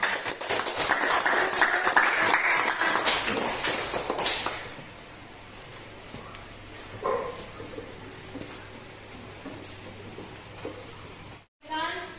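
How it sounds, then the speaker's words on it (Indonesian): A classroom of students claps after a group presentation, a loud burst of dense applause lasting about four seconds, then a quiet room with brief talking. "Kita tepuk tangan."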